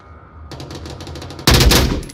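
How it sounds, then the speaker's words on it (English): A burst of rapid gunfire in the VR shooter Onward during a competitive match, loud and close, following a quieter stretch of faint game ambience. "Here, gunshot. That was Just Do It shooting towards number 3 inside hospital."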